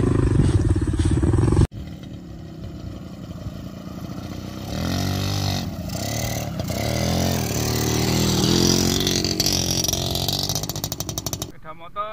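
A motorcycle engine revs hard and loud while the bike is half-submerged in deep floodwater, with a continuous straining roar that rises and swells over several seconds. People talk over it.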